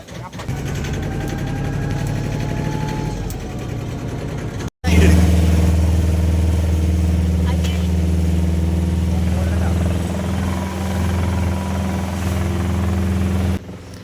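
Steady low engine drone of a colourful tourist boat on a ride in Hoi An, continuous and fairly loud, with a brief cut partway through and voices talking over it.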